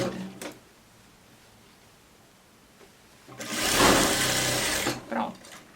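A sewing machine runs for about a second and a half, stitching the shoulder seam of a coat, a loud close whirring burst after a quiet stretch, with brief handling noises around it and a voice nearby.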